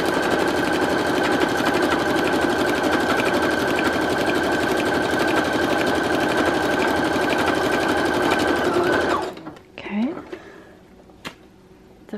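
A Brother Project Runway CE1100PRW sewing machine stitches a swatch in a fast, even mechanical whir for about nine seconds, then stops abruptly, leaving faint handling clicks.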